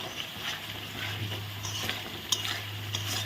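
Spices being stirred and sautéed in a pan with aubergine, coriander powder and sugar, heard as soft scraping strokes and spoon taps over a quiet sizzle, with a low steady hum beneath.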